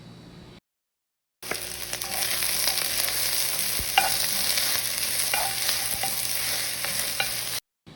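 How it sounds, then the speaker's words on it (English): Okra frying in a pot with pimentos, garlic and ginger for a Trinidadian ochro rice with beef, with a soft continuous sizzle and occasional spoon scrapes and taps, after a brief silence. "Then I'm going to be adding the okra and cooking it just for a few minutes over low heat"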